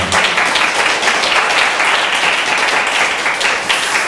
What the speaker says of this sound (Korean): 박수라도 쳐야 될까요?